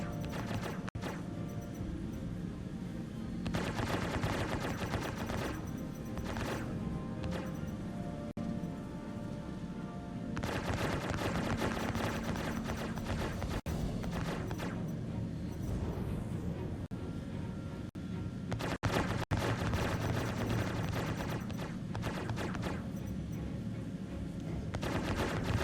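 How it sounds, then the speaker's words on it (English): Laser fire from the Polaris capital ship in a space combat game rattles on in dense sustained bursts, with louder volleys and sharp cracks over a steady engine drone, no speech. "With more power to shields, I can actually take most of the laser shots from the Polaris"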